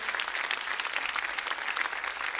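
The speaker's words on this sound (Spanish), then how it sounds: "denles ofrenda de palmas a nuestro Dios" Sustained applause from a church congregation fills the moment, a dense, even clatter of many clapping hands with no voices over it.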